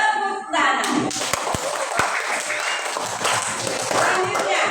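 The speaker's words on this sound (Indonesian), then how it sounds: "Tepuk tangan." A class of students in a peer-teaching lesson bursts into hand clapping after a brief voice, with sharp close claps continuing for several seconds.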